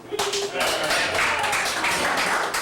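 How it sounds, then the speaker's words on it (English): Brief burst of audience clapping at a tribute concert at Club Passim, a small club, with a voice talking over the dense, close applause. "A little applause, a little transition applause."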